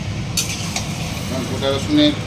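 Mutton being sautéed and stirred in a pan, with a utensil scraping and clinking against the metal over a steady low sizzle, close and fairly loud.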